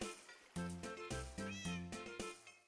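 Cat meows in the Minecraft video game, several distinct tonal calls repeated in quick succession, clear and close with no talking.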